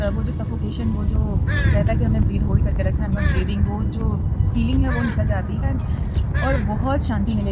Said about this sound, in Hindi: चिड़ियाँ चहचहा रही हैं खुशी से